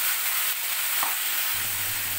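Sliced, washed ridge gourd hits hot oil in a wok, giving a loud, steady sizzle and hiss of frying with a soft stir partway through and a low rumble rising near the end.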